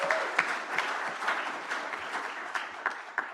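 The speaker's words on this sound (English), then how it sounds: "I'm going to give a round of applause." Applause at a school district board meeting: a modest round of clapping from a small audience, quiet and fairly close, lasting a few seconds with distinct individual claps standing out.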